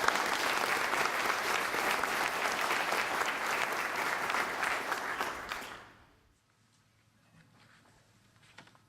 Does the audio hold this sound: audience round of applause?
yes